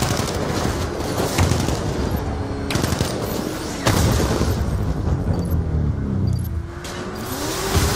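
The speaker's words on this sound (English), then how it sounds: "I just took a hit. My bolts are really not doing anything. Taking fire." Gunfire and explosions fill a Batman: Arkham Knight battle, with dense, loud bursts of rapid shots and heavy booms running nonstop over an engine-like rumble.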